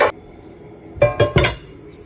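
A metal pan set down on a stovetop before making goulash: one clank, a pause, then three quick rattling knocks close by, ringing briefly in a quiet kitchen.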